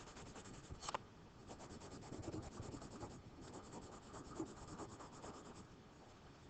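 Pencil drawing a puzzle shape on paper: faint, steady scratching and rubbing strokes, close and quiet, continuing without pause.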